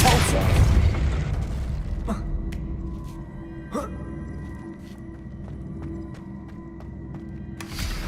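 A Depulso spell is cast in Hogwarts Legacy: a heavy booming blast opens, followed by sharp magical pops and crackles scattered over a low droning game ambience, with another burst at the end.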